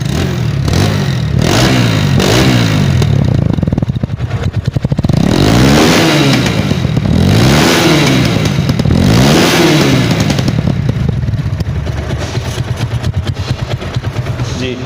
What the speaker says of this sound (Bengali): 165 সিসির বাইক, আওয়াজ তো একটু হবেই, গর্জন তো একটু হবেই